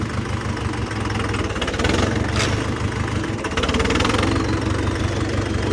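A tractor engine idling close by, a steady, loud, rough mid-pitched rumble with a knocking, vibrating pulse that holds throughout with no talk.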